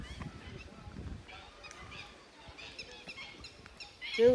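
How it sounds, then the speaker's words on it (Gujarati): Birds call around a lake in Dwarka, honking goose-like cries scattered across the scene at low level, with a louder, nearer call rising at the end. "પક્ષીઓનો અવાજ છે ખાલી નકરો."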